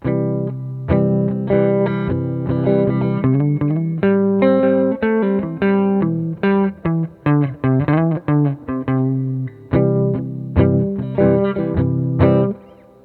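A distorted electric guitar plays a busy lick of quick picked notes and bends, with effects-laden tone and short gaps between phrases.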